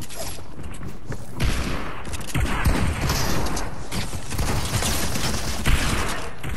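Fortnite gunfire crackles in a dense, continuous barrage of rapid shots and mechanical clatter, loud and busy throughout with no clear gaps.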